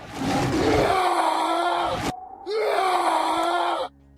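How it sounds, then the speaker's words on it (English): Two loud, identical, harsh male death yells from enemies in the PS4 game Life of Black Tiger. Each lasts over a second, with a short silent gap between them. "Every time you kill a person, they make the same yell"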